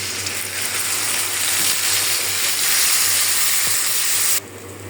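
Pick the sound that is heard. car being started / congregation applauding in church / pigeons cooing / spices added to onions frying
spices added to onions frying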